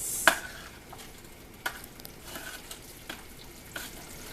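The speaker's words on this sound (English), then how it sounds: "And then I gotta stir this all in until it dissolves." Spoon stirring sugar into a 2.5 batch of pear jam until it dissolves, heard as a few soft, scattered scraping strokes against the pot over a quiet background, with no talking.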